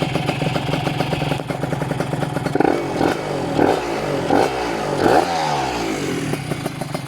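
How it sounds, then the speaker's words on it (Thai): Honda LS125R motorcycle with a modified, tuned engine revving hard at close range, a steady loud idle broken by several sharp throttle blips that surge and fall back. "เครื่องน่าจะซิ่งแล้วมันเบิ้ลทีนึงมันสะท้านมากเลย"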